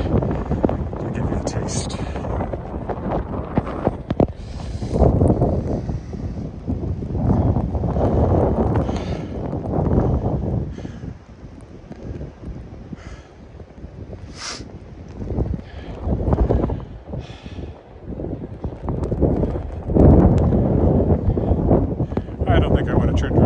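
Blizzard wind gusting hard into a microphone during a street walk in Regina in November, a rough rumbling buffet that rises and falls throughout, with someone talking over it.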